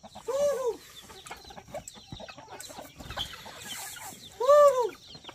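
Bantam chickens cluck outdoors in hilly countryside: two clear, close clucking calls about four seconds apart, with quieter rustling and faint background noise between them.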